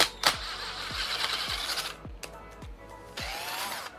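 A power screwdriver drives soft, unhardened screws into a Bogist Mini V2 in a series of short whirring bursts, each one ending in a brief drop in pitch. Between bursts there are sharp clicks and handling noises, all close to the microphone.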